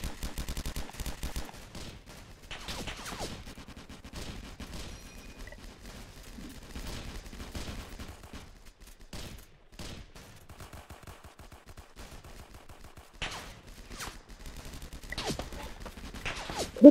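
Sniper gunshots in the Roblox video game crack out in scattered sharp bursts, some clustered in quick volleys, against a quiet background with brief lulls between shots.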